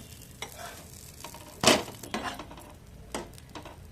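A sandwich fries on both sides in a pan, with a faint, low sizzle broken by a few brief scrapes and stirring bursts, one louder spatula scrape near the middle.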